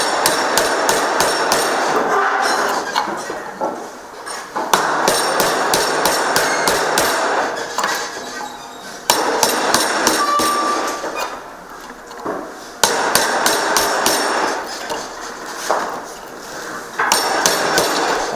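A wooden mallet drives a chisel into wood to cut a mortise, landing loud, rapid strikes in rhythmic bursts separated by short pauses, with no voices present.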